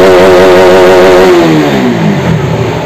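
A KTM Duke 200 motorcycle engine revs loud and close, its pitch climbing and then falling away as the throttle is released into a rough lower idle, with no voices over it.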